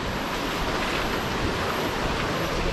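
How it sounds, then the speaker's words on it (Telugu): Fast-flowing river rushing beneath a swaying hanging bridge in monsoon season at Nisargadhama near Madikeri, a steady loud broadband roar of water with wind buffeting the microphone and no talk. "వాటర్ ఫ్లో చాలా ఫాస్ట్ ఫ్లో"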